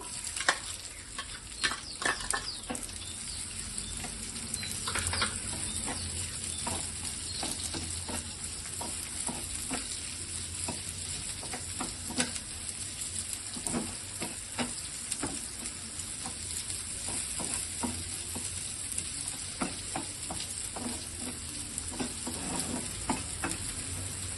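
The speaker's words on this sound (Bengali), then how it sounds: "পেঁয়াজটা একটু লাল লাল করে ভাজা হোক" Chopped onions frying in hot oil, a continuous soft sizzle broken by repeated scraping and clinking of a spatula stirring them around the pan, moderately close and steady.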